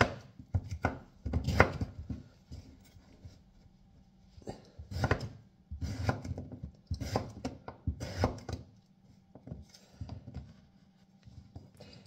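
Knife chopping ingredients for a basic country curry on a board, bursts of quick rhythmic chops separated by short pauses, close and fairly quiet, no voices.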